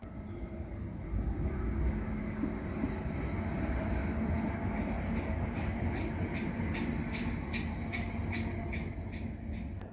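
A suburban tram runs steadily along the line near an old railway tunnel in Shirley, giving a continuous rumbling roll with a brief high squeal early on and regular clicking beats from the wheels later.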